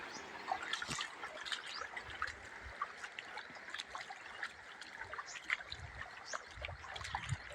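Water runs through a small irrigation channel in a village field with a soft, continuous trickle and light gurgles, faint and close, with no talk.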